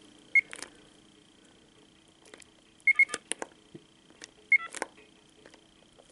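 Button presses on a vintage 1990 AT&T 5500 cordless telephone give short, sharp electronic beeps, one single, then a quick double, then another single, spaced apart over faint background hiss and small handling clicks.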